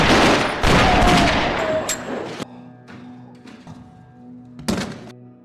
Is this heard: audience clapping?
no